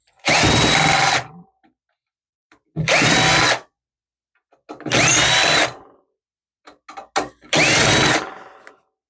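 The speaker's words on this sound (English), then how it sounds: "So now let's start unscrewing things." A power screwdriver whirs in four separate bursts of about a second each, with short quiet gaps and small clicks between, unscrewing screws inside a 2010 Dell Vostro 460 desktop computer; loud and close, with no talking.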